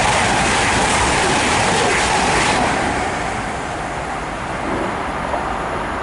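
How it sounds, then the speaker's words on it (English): An East Midlands Railway passenger train from Sheffield to London St Pancras rushes past Mill Hill Broadway station, a loud, broad roar close by that eases after the midpoint and settles into a steady rumble. "our next train to pass by will be a East Midlands Railway service going"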